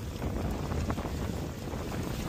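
A small outboard motor runs at full throttle on a catamaran in a stormy sea, its low steady drone buried under heavy wind buffeting the microphone.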